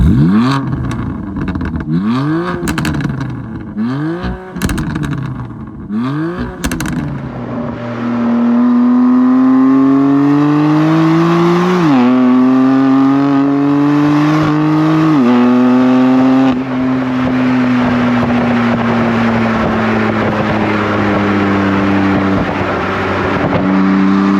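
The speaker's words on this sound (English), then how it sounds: "when you put it into Sport Plus mode and the valves open on the exhaust, is just how much it crackles and pops on the downshift" BMW M4 in Sport Plus with exhaust valves open: several sharp revs at first, then steady engine drone rising through gears, with crackles and pops on downshifts, loud and close, no talk.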